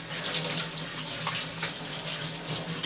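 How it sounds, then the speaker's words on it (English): Rubber kitchen gloves rinsed under a running kitchen sink tap: a constant, loud, close rush of water splashing, with slight surges as the gloves move through the stream. "Rinse them really well."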